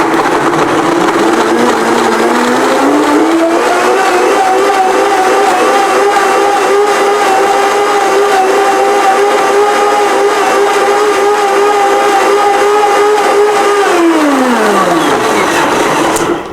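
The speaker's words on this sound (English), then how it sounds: "So I am going to now blend it in my blender." A blender whirs loudly as it blends chia seeds, mustard and dates, ramping up in pitch, holding a steady high whine for about ten seconds, then winding down as it stops.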